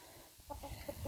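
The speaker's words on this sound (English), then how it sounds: "So the new commercial laying chickens that I got, they're doing well." A few commercial laying hens cluck softly in a garden pen, a short burst of low, close clucks building in the last half-second.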